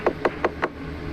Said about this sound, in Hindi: तभी दरवाजे पर दस्तक होती है